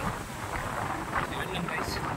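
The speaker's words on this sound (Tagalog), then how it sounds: "Sadyang malakas ng hangin ngayon dito." Strong wind buffets the microphone on a foggy mountain summit during a day hike, a continuous rough roar with gusty surges across the short stretch.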